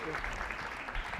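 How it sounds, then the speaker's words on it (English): A brief, dense burst of audience applause for a chef's assistant at a charity cooking demonstration, steady and close for just over a second. "Give my lovely assistant a hand clap."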